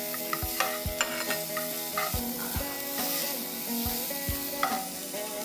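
Cumin, finely chopped ginger and garlic frying in oil in a kadai for kadai paneer, a steady close sizzle with repeated scraping stirs and light clinks of a spoon against the pan, no voices.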